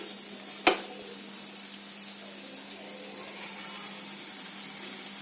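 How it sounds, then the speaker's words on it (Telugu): Boiled basmati rice is stir-fried in a pan for restaurant-style chicken fried rice, heard as a soft, steady sizzling hiss over a low hum, with one sharp clack of a utensil near the start. "ఫైనల్లీ ఇప్పుడు మనం రైస్ మిక్స్ చేసుకుందాం."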